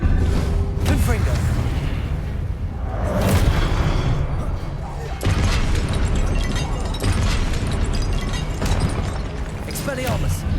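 Fiery Confringo blast spells explode repeatedly during combat in Hogwarts Legacy, booming bursts layered over continuous loud battle noise and rumbling effects, with a brief lull before the clamor resumes.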